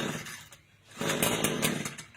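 Shindaiwa T236TS brushcutter engine cranked over for a couple of seconds, a rough rapid mechanical churning that drops briefly then resumes louder, close and alone without talk.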